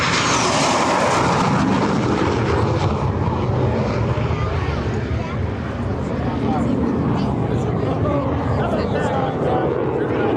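MiG-17 jet aircraft flying at an airshow, a continuous broad roar that stays loud throughout, with a public-address announcer talking over it.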